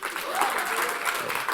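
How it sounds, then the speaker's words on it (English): Applause from an audience at a young people's care careers conference in the UK, a brief burst of many hands clapping that stays steady and moderately loud, with a voice speaking over it. "You can clap if you want, that's okay."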